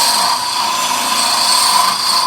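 A wood lathe spins a small nativity figure head, giving a steady, loud, even whirring hum with a constant high tonal whine and no speech.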